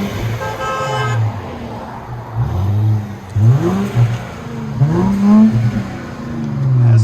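A 2017 Infiniti Q50 with a 3.0L turbo V6 and Borla Pro XS exhaust revs loudly and close by in several rising blips over a deep idle rumble, with no talk.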